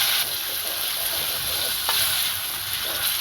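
A tadka tempering fries in hot ghee for a Punjabi sarson ka saag, with a loud, close, constant sizzle. Occasional scraping stirs cut through the sizzle, and no one speaks.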